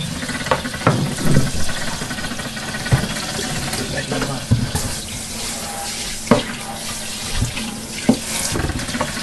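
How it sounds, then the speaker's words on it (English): Water from a sprayer rushes into a tank as it is rinsed out, a continuous splashing flow punctuated by several sharp knocks and clunks against the tank. "get the tank all rinsed out real good"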